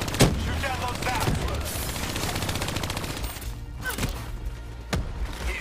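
Rapid gunfire and heavy impacts crackle through Call of Duty: Black Ops 3 gameplay, dense bursts with sharp cracks standing out, while a voice talks over parts of the action.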